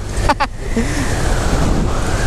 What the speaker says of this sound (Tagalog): medyo malakas yung hangin, medyo tinatangay ako